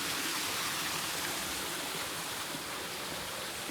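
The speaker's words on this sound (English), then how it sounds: "There's a little waterfall right there" A small outdoor waterfall pours in a steady, broadband rush of falling water, close and continuous with no pauses and no voices over it.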